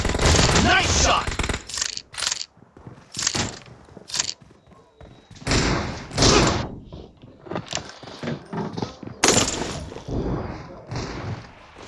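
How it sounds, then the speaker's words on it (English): M1014 shotgun firing in PUBG Mobile, with loud heavy booming blasts in irregular bursts mixed with thuds and game effects, close and punchy, with some speech between shots. "आप लोग देख रहे हो मैं शॉटगन चला रहा हूँ।"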